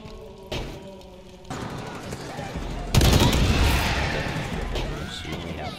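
A shotgun fires in the video game Halo Infinite during a zombies-style mode, with a few heavy booming blasts that ring on loudly, alongside other game noise.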